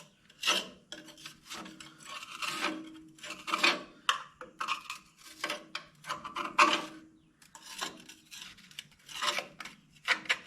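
Irregular scraping and rasping strokes, close and fairly quiet, come from dirt being cleaned out of a Ford power reverse transmission screen, with short pauses between bursts.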